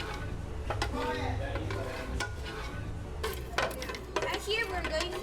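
Cocoa beans scrape and rattle as they are stirred while roasting in a pan at a chocolate class in Peru, with steady close clatter and light sizzle under a low background hum.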